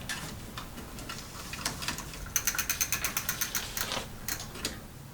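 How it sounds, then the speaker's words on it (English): A chain breaker tool pushes a link pin out of a bicycle chain, giving a quick run of about a dozen sharp ratcheting clicks in a steady rhythm, surrounded by scattered handling ticks and clatter. "I'm using a chain brake tool to remove a link from this chain."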